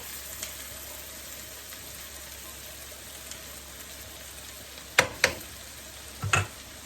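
Sliced bitter gourd fries in a pan with a soft, steady sizzle, broken near the end by a few sharp clinks of a utensil against the pan.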